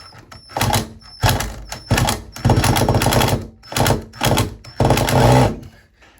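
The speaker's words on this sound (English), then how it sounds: "And then I also grabbed the impact gun." Impact gun whirring in repeated bursts against a stripped screw on a stuck shower faucet handle, loud and close, with short pauses between each burst and no talking.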